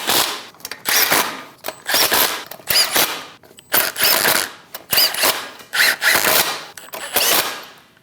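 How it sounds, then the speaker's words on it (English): A power tool snugs down the lug nuts on a Chevrolet Express 2500 front wheel, firing in about eight loud, close bursts of rattling impacts separated by short pauses. "Snug the lug nuts down."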